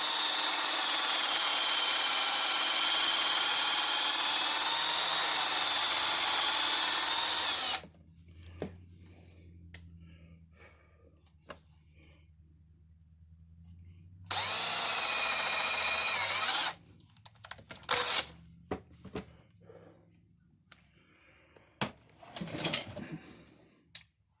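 A power drill on high speed spins a piece of copper inside wood to burnish it, a loud, close, steady whine for several seconds, then a pause with faint handling knocks before a second shorter burst and scattered clatter.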